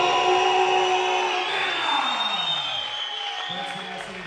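At an MMA event, a crowd greets fighter Kazim Tumenov with loud, sustained applause mixed with cheers and shouts, while an announcer's voice carries over it.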